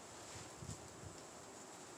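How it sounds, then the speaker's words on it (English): Steady wind blowing through spring woods during a turkey hunt, a continuous broadband rush with a brief louder gust, close and fairly loud with no voices. "You can hear that wind."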